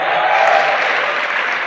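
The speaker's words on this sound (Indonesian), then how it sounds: "Saya ingin tepuk tangan untuk teman saya" Loud, continuous applause from an audience at a motivational seminar in Indonesia, a thick, even roar of clapping with no gaps over a brief stretch.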